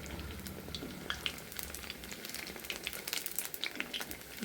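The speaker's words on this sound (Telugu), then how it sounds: "ఇదిగోండి చూడండి మంచిగా ఫ్రై అయినాయి." Sabudana (sago) vadas frying in hot oil, a steady close crackling sizzle with small pops throughout, no talking.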